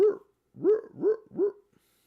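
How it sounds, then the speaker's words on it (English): A dog barks four times nearby, one bark then three in quick succession, loud and clear against a quiet room with no talk. "Who let the dog out?"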